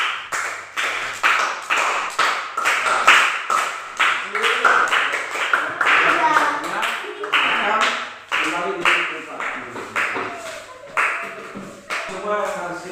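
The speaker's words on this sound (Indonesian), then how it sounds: "Tepuk tangan untuk kelompok 2." Students in a sixth-grade classroom applaud group 2 with distinct, rhythmic rounds of clapping that come in short bursts, while voices chatter and call out between and under the claps.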